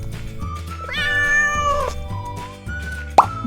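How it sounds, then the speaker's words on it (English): A cat meows clearly over a bouncy children's song backing track, one long drawn-out meow followed by a short sharp one near the end. "C for cat"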